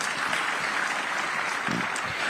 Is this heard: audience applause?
yes